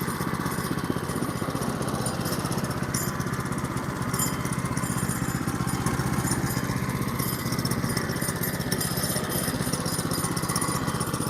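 A sawmill engine runs steadily while cutting a one-inch board on a homestead, not opened up to full throttle: a continuous loud mechanical drone with a broad hiss on top, constant throughout, with no talk.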